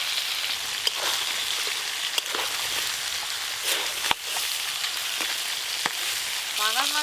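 Pieces of fried pangas fish are stirred into a spice masala in a pan, giving a steady, close sizzle broken by occasional scrapes and clicks of the spoon.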